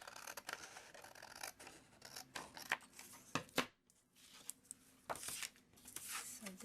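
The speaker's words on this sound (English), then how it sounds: "I'm going to use some scissors" Scissors cut through paper in a string of quiet, close snips and crisp slicing strokes, spaced irregularly with brief pauses between cuts.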